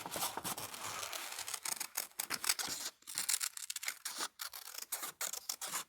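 Crisp snipping and rustling of scissors cutting paper freehand, a quick irregular series of close, dry cuts with brief pauses between them.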